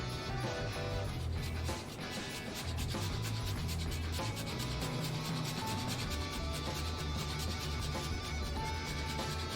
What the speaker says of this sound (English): do a little more parm grating on top of this just for the fun of it